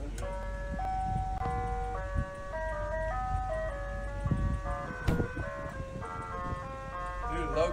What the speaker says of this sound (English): This is the first day I bought the ice cream truck